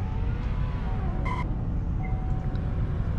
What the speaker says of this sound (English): I just knew that sounded like a Gallardo.